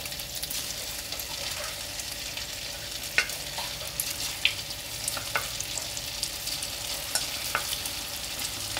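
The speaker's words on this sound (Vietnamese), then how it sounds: "cái chảo dầu nó thiệt là nóng rồi, cho nên là mình để đại khá khá đi, rồi mình chiên cho nó lẹ" Cassava cakes frying in a pan of very hot oil give a steady sizzle throughout, with sharp pops and crackles standing out now and then, close by and with no talking.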